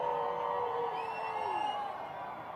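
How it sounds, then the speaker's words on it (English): A protest march crowd entering Main Street downtown cheers and whoops in the distance, a faint, continuous roar with a few rising hollers over it. "You can hear that cheering as people are starting to enter toward Main Street right now"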